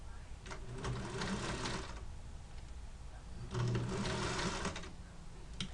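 A home sewing machine runs in two bursts of rapid stitching while a sleeve is set into a garment, with a quiet pause between the runs.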